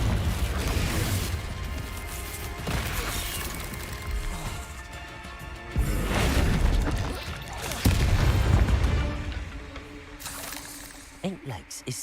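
A Confringo explosive spell blast in the Hogwarts Legacy video game. Several deep, rumbling booms and crackling bursts come in waves amid mechanical game sounds, with a voice talking over parts of it.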